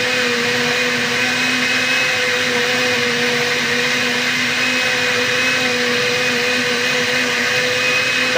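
A blender runs loudly and without a break while blending oat milk, a steady high-pitched motor whine with a constant churning rush and no change in pitch from start to finish.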